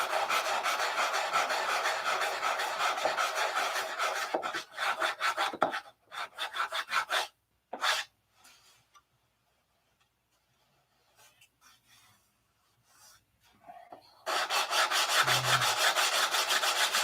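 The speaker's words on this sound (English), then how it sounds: "I got that one sanded in." A P-47 model wing part being hand-sanded: rapid, rhythmic rasping strokes up close, broken by short bursts and a quiet pause before steady sanding resumes.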